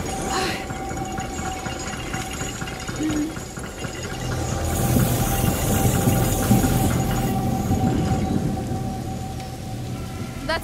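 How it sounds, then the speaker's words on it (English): Heavy rain and rumbling thunder from a storm in the video game A Plague Tale: Innocence, a steady dense downpour that swells louder midway with low rolling thunder and faint background voices. "Don't worry, the storm will drown out our voices."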